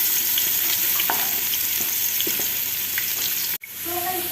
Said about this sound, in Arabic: حمينا الزيت، نضيف البصل